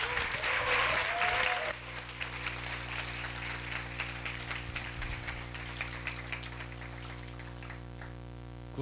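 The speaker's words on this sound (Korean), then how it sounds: "박수로 환영해 주십시오" Audience at a university forum in a lecture hall welcoming a philosophy professor with applause, a dense loud wash of clapping at the start that thins to lighter scattered claps and a sustained hum.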